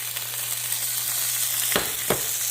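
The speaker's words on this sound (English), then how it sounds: "Now we're going to go ahead and put our beans in here." Black beans go into a hot pan and sizzle, a steady frying hiss with a low hum beneath and two sharp clattering strokes near the end.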